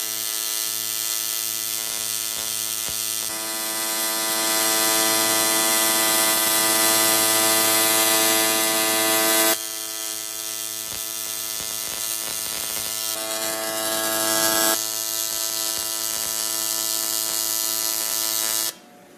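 Steady electric buzzing hum of a TIG welder on thin aluminum buildup with a fresh tungsten, loud and continuous with brief shifts in pitch and a sharp cutoff at the end.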